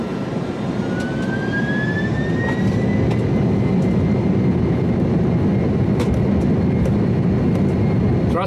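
A Qantas airliner's jet engines roar at takeoff thrust from inside the aircraft, a loud, constant broadband rumble with a rising whine as power builds, with faint clicks over the steady noise.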